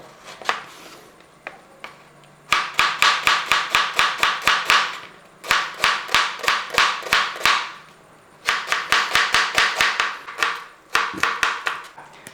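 Onions thinly sliced with a knife on a cutting board, giving loud rapid bursts of sharp chopping taps in three quick runs separated by short pauses, up close with no talk.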